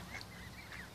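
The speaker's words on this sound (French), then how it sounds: "Regarde les deux canards." A few soft duck quacks and honks sound faintly in quick succession, brief and somewhat distant.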